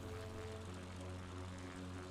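A propeller plane engine drones steadily in flight on a bush trip in New Guinea, a continuous, even hum that holds throughout with no talk.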